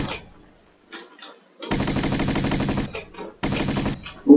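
Gunfire in the Tomb Raider video game: two sustained bursts of rapid automatic shots, loud and close, separated by brief pauses with faint game sounds in between.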